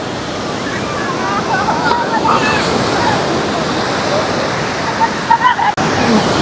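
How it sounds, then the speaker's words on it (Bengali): Big sea waves breaking on the crowded beach at Puri, making a loud, continuous surf roar with some wind noise on the microphone and voices in the crowd around it. "দারুণ লাগছে সত্যি, বিরাট বিরাট ঢেউ আসছে।"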